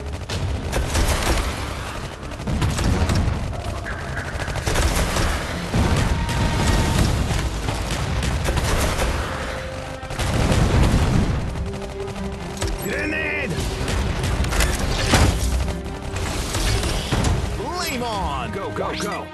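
Grenade explosions and gunfire in the video game Iron Marines keep booming in a near-continuous battle barrage, loud and dense, with game voices shouting now and then.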